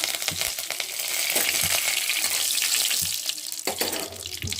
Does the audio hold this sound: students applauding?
no